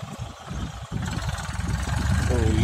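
A tractor with a mounted seed drill runs while sowing maize, its engine chugging unevenly at close range, at first in choppy pulses and then building to a louder, steadier run.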